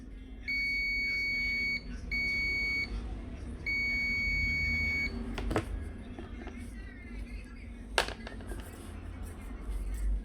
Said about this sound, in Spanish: Veremos y escucharemos el pitido.